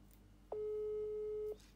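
One long tone from an unanswered phone call, steady and electronic, lasting about a second against a quiet room background, with no one speaking over it.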